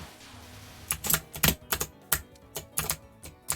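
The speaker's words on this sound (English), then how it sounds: "Keyboard sound is fine, especially for shmup streaming." Computer keyboard typing during a shoot-'em-up game stream: a run of close, crisp key clacks in irregular bursts after a quiet start, with no talk.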